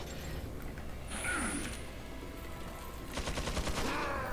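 Gunfire in the video game Resident Evil 4 HD Remake, with a few sharp shots and mechanical clatter rising in bursts around game ambience, fairly quiet overall, with no talking.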